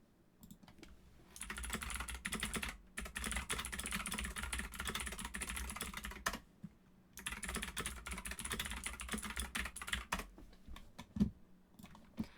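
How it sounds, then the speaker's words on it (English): Rapid, continuous typing on a computer keyboard during a Minecraft beta-world building stream, dense clattering keystrokes in two long bursts separated by a brief pause, fairly close and alone without speech. "Every time I type, people are like, keyboard ASMR."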